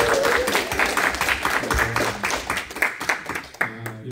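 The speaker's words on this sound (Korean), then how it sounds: "그리고 우리 한여정 선교사님, 잠깐 자리에서 일어나 주시고 박수로 환영하겠습니다." Church congregation in Korea clapping to welcome a missionary, a dense patter of many hands at moderate distance with a few louder claps, lasting several seconds without speech.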